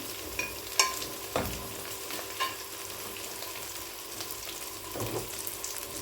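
Shrimp sautéing with garlic in a pan, a continuous soft sizzle with a few stirring clinks and scrapes spaced through the clip, close and moderately quiet.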